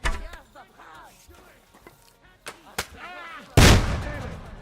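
Medieval battle in the Kingdom Come: Deliverance II video game, scattered sharp shots and impacts spread across shouting voices, ending in one loud, close blast.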